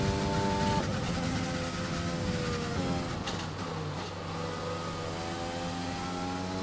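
A Formula 1 car engine at Silverstone in the F1 2020 racing game, run on a lean fuel mix. It gives a steady, loud whine with rising and falling harmonic tones and no talk.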